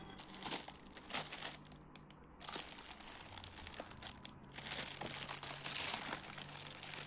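Plastic bag crinkling and rustling up close while blanket clips are handled, in soft irregular bursts of crackle with brief pauses.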